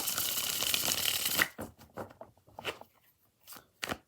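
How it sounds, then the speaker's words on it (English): A deck of cards gets a fast riffle shuffle, a dense papery rush for about a second and a half, then several separate soft taps and slaps as the cards are squared up. "Last shuffle."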